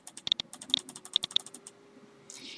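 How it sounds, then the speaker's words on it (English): Fingers tap quick, uneven bursts of keystrokes on a computer keyboard at close range, with brief pauses between clusters and a faint background hum. "You're typing in the information correctly."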